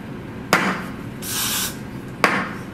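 A spray bottle mists onto wig lace in one short hiss, framed by two sharp clicks of the trigger or cap, close and alone.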